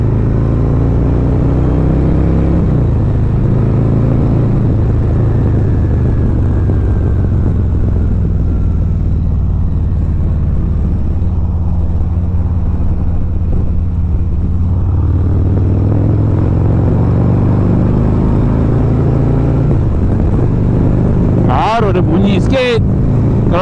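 The engine of a 2020 Harley-Davidson Road Glide fitted with a Vance & Hines exhaust rumbles deep and loud up close. The sound is steady throughout, with slight shifts in pitch.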